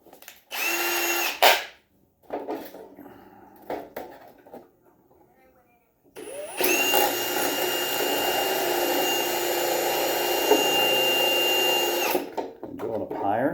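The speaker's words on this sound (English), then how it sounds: "Let's pre-drill." A power drill pre-drills holes, bending a 12-volt speed controller bracket using nuts as a jig: a short whir near the start, then a long steady high-pitched motor run of about six seconds, close and loud, with brief talk in the gaps.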